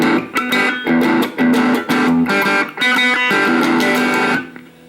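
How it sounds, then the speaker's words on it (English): Electric guitar on the crunch setting of a Line 6 Micro Spider solid-state amp, a quick, loud run of rhythmic overdriven chords and short riffs that stops abruptly near the end. "That's crunch."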